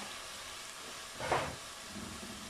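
Onions cooking gently in a covered pan for homemade pizza give a faint, steady sizzle and hiss, with one brief louder burst of steam midway.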